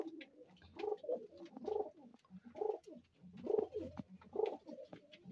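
Pigeons cooing near at hand in a village setting, a run of about five soft, low, throaty coos spaced evenly apart, with no talking.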